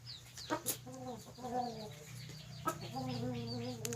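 Several hoarse, stuttering clucks and short crowing calls from an eight-and-a-half-month-old fighting rooster, close by, with a steady low hum underneath.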